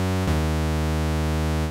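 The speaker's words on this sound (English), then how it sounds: "We're just going to change the oscillator number 2 to a square wave." Square wave from the second oscillator of an Ableton Drift synthesizer, a steady buzzy sustained tone with strong harmonics, briefly shifting pitch near the start and then holding alone for under two seconds.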